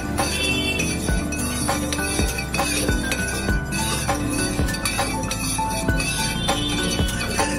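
A spoon stirs red gel colour into a pudding mix in a bowl, making repeated light clinks and scrapes against the container under steady background music.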